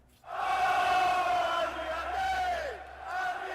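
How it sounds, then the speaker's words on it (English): A football crowd sings a chant for Andy Robertson, a loud, sustained chorus of many voices that holds steady and then dips before swelling again. "we hear the dulcet tones of me and a crowd of people, I think, singing his song"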